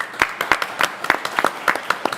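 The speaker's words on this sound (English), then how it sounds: "You deserve a round of applause" Applause at a county commissioners court meeting, a small group clapping in a loose rhythm of distinct claps, fairly close and moderately loud.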